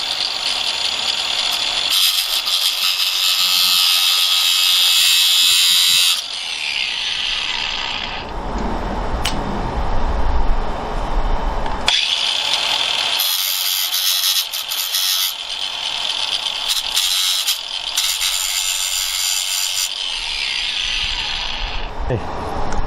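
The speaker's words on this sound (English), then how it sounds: "Now we're going to take and grind off and just leave just some nubs sticking up." A power tool grinds off framing nails while removing a blade from a toekick saw. Loud bursts of harsh grinding start and stop several times, close up, with pauses and brief mechanical handling noise between them.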